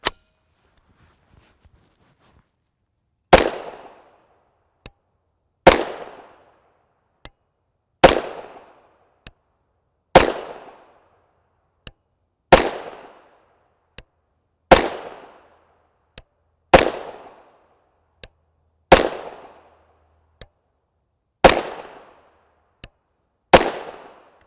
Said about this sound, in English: this is our CZ Scorpion Evo 3S1 SBR.